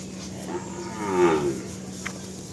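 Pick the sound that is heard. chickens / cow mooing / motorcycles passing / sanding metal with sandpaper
cow mooing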